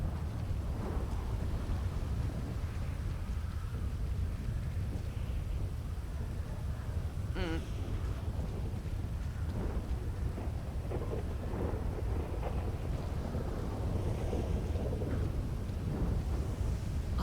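Steady heavy rain and rolling thunder in the video game GTA V (NoPixel), a constant dense downpour with low rumbling and a sharper crack partway through, with no speech over it.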